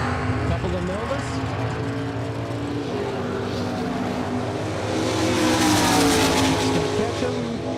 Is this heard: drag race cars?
yes